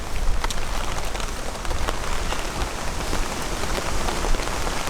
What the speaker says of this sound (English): The rain's coming in really strong sideways.